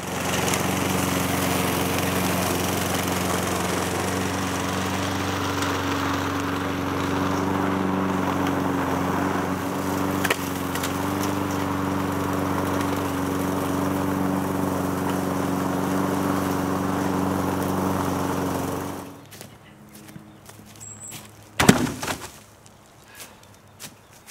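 A lawn mower engine drones steadily and loudly for about twenty seconds, then cuts off, leaving quieter surroundings with a few knocks.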